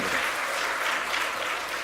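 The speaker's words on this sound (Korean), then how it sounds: "다시 한번 박수로 환영해드리겠습니다." Steady applause from a church congregation at a Sunday worship service, dense continuous clapping filling the room for the whole stretch, with no voices standing out.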